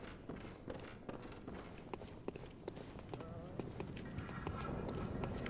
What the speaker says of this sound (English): I hear footsteps.